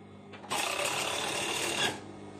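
A sewing machine stitching elastic onto pajama trousers, a steady fast whirring run of about a second and a half that starts and stops abruptly, close and loud.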